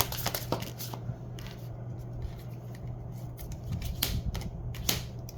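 A deck of cards being shuffled at close range, with quick papery riffles and snaps in short bursts over a low background hum.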